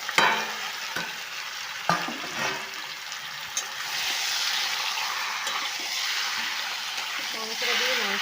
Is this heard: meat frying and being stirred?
yes